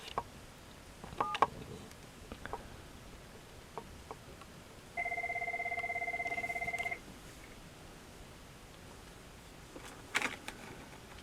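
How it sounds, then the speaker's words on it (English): A phone dials out through an analog telephone adapter, giving a few short keypad tones and then a steady two-second dial tone, followed by another brief tone against faint background hiss. "I'm going to make a call from the analog outbound to the other phone on the other side, if you will."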